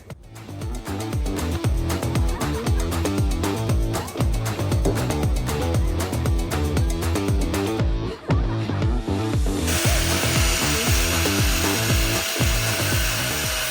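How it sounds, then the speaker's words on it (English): A power drill bores holes through half-inch material while fitting a Rebel Offroad DSS kit to Fusion axles, a loud continuous grinding with rapid rhythmic chatter, then a higher steady whine near the end. "we have to drill these holes into the 1/2 inch"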